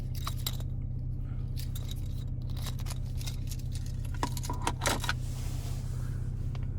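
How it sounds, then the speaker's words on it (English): The key fob of a 2018 Porsche Panamera is handled, giving small, scattered clicks and light jingles up close over a steady low hum inside the car. "And then finally, here's our key fob."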